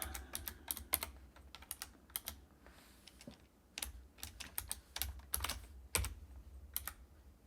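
Fingers tapping on a computer keyboard, entering a value into a graphing calculator, with quick clusters of soft clicks and short pauses, close and fairly quiet, no talking.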